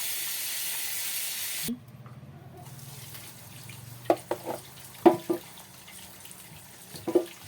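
Tap water runs hard over pickles being washed in a sink, a loud hiss that stops abruptly after under two seconds. Quieter knocks and clatter from handling follow.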